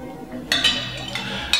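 A utensil clinks and taps against a container while custom dye colours, including a dash of royal blue, are stirred together. Several sharp, light contacts come at uneven intervals close by.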